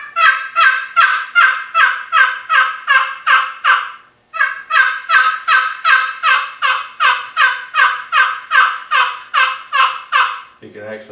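Wooden turkey box call muffled with a thumb on its side, a long run of rapid, raspy yelps in steady rhythm, close and loud, with a short pause midway.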